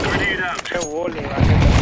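Counter-Strike 2 gunfire, a few sharp shots and a louder burst near the end, mixed with the game's sounds and someone talking over it.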